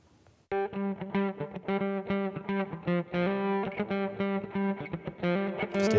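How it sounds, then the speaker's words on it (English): A soloed electric guitar track in GarageBand with heavy reverb added, strummed chords ringing out loud and steady with sustained, lush tails. "add maybe a little bit of reverb to that track to make it a little more lush"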